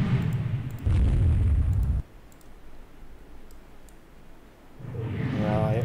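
Torpedo explosions in the naval video game Rule the Waves 2, a loud booming blast lasting about a second, followed by quieter rumbling and faint clicks before another deep boom rises toward the end.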